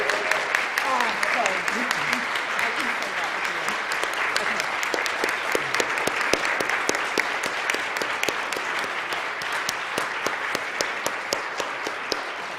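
An audience claps steadily for a round of applause honoring peacebuilder finalists, a dense continuous patter of many hands filling the room, with voices mixed in beneath it.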